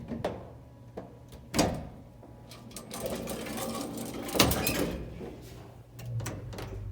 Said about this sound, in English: Just opening and closing the doors.